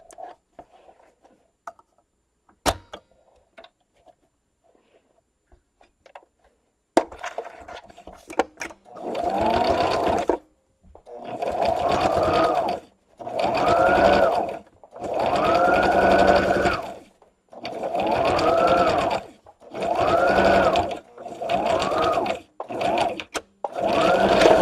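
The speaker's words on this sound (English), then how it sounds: "we're just going to stitch all the way down and having that 1 inch seam allowance" Sewing machine stitching a purse liner seam down one side, heard up close as a string of loud whirring runs with short pauses between them, after a quiet opening with faint handling noises.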